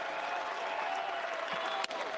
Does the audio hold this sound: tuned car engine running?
no